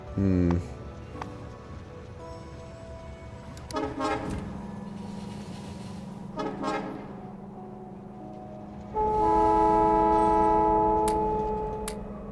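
Train horn in the Factorio factory game, two short tonal toots with a longer sustained blast near the end, heard over steady mechanical hum and ticking of the factory.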